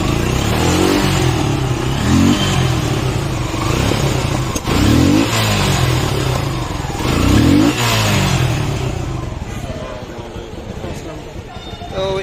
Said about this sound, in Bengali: দেখেন এটার ইঞ্জিনের সাউন্ড।